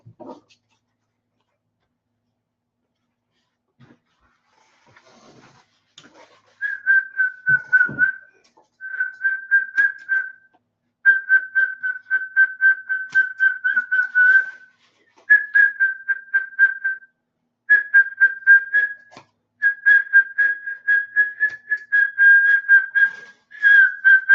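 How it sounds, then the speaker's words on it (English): A person whistles a simple tune in repeated short phrases, fairly close and somewhat wavering, with brief pauses between phrases and no talking. "You hear how bad my whistling is? That's me trying to do a little tune."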